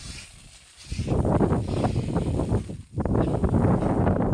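Strong gusty wind buffets the microphone with a loud low rumble outdoors while rice seed is winnowed, briefly easing before blowing hard again.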